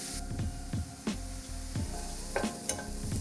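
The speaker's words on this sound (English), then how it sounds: "We're gonna let those onions sweat and get soft." Onions sweating gently in a pan over low heat give a soft, steady sizzle broken by regular scraping and stirring strokes, several quick passes of a spoon across the pan.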